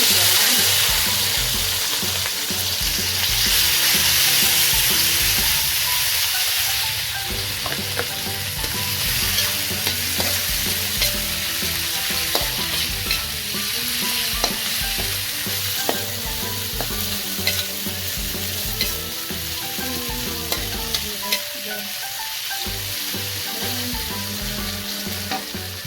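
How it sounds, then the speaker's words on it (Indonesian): Ingredients for a Minangkabau chicken korma curry sauté in a little oil, with a loud, continuous sizzle and repeated stirring scrapes of a spatula against the pan, no talking. "Kasih minyak sedikit. Kita tumis ya."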